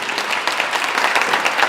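Audience applauding a slam poet at a poetry slam final, a dense steady wash of clapping throughout with no pauses.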